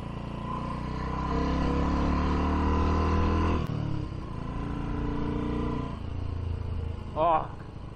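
A BSA Goldstar motorcycle accelerating hard, its engine note rising in strong pulls with a sharp shift around the middle and another later, heard up close from the ride.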